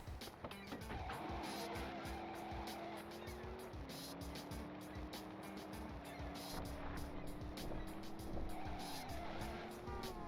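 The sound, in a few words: car driving with tire squeal in video game Driver 2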